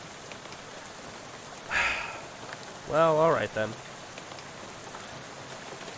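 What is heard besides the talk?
rain falling at night in video game Shadows Over Loathing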